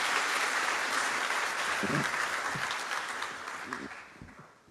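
Loud, dense applause from a crowd at a university doctoral hooding ceremony fills the space, with a few voices calling out, then slowly fades away.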